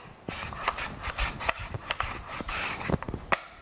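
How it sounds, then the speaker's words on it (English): A green papaya is scraped across a grater in quick uneven strokes, each a short crisp rasp, close and fairly quiet. "go ahead and grate it all the way up until I get to the center where I start to see the seeds"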